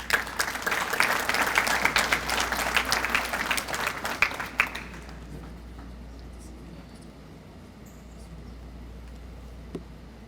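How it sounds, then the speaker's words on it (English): A room of people applauding young honorees at an alumni association ceremony, dense sustained clapping for about five seconds before tapering off into quiet hall ambience. "Why don't we give them another big round of applause?"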